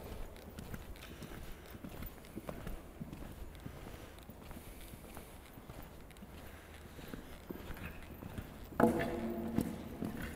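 Hoofbeats of a horse cantering in an arena thud in a steady three-beat rhythm, moderately close but fairly quiet, with a brief louder knock near the end.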